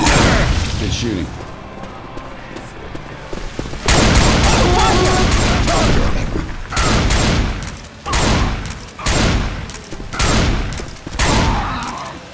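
Heavy gunfire and explosive rounds from the Left 4 Dead 2 zombie shooter, a dense fusillade of booming shots that breaks into repeated loud bursts in the second half, with game voices talking over it.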